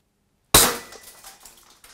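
After a moment of silence, a single sharp snapping crack from a Baikal MP61 spring-powered air rifle firing during a trigger test, followed by a brief metallic ring fading out.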